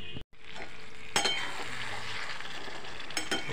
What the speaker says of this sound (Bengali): চিংড়ি মাছের কষা হচ্ছে